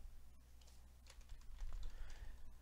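Keys tapped on a computer keyboard while entering a filter in network-analysis software, a quick irregular run of close, light clicks with no one talking.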